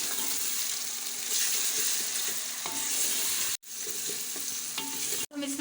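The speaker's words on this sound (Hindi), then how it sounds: "ये डालने के बाद अब इस कीमे को हम अच्छे से भून लेंगे।" Minced meat keema frying in a pan with ginger garlic paste for a Shimla mirch keema, a steady loud sizzle with stirring scrapes, broken by two brief silent gaps.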